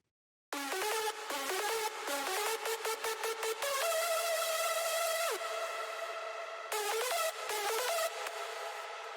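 Bright synth melody layer from an EDM track, rapid stuttering plucked notes giving way to sustained chord tones, loud and upfront with no voice.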